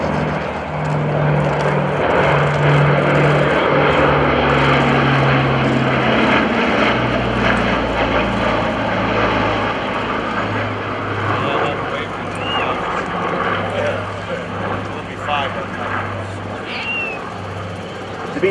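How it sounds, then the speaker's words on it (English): B-29 Superfortress bomber makes a photo pass at a World War II air show, its propeller engines droning loudly and steadily as it flies by, with an announcer talking over the roar. "you will see the B-29 coming in for a photo pass."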